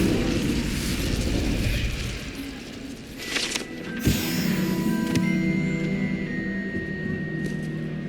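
A fire spell, Incendio, cast in Hogwarts Legacy flares up as a sudden whooshing burst with a sharp crackle, then rings on with sustained magical tones over a steady low game ambience; no one talks.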